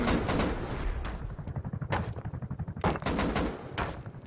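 Gunfire in the video game Rust, loud rapid bursts of automatic shots in quick rhythmic volleys broken by short pauses, close and unaccompanied by talk.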